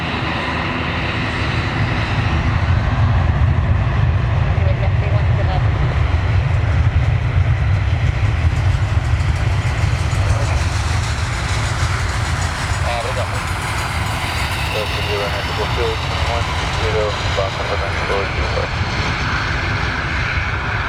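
Turkish Airlines Airbus A321 jet taking off at Lisbon Airport, a loud sustained engine roar that builds and holds steadily for about twenty seconds, with a whining tone emerging later as it climbs away.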